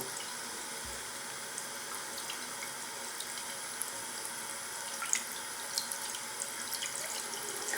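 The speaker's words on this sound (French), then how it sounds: "Une fois que le produit est à peu près sec, nous allons le passer sous l'eau." Tap water runs steadily into a sink as a piece of engraved glass is rinsed, with a constant hiss and a few light splashes and drips toward the end.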